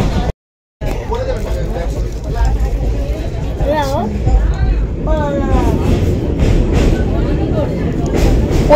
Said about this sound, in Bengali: দিয়ে ট্রেন নড়ছে